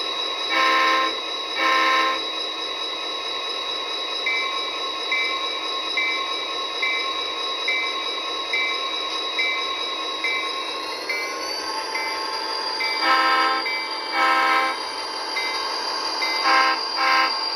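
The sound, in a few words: model locomotive running on track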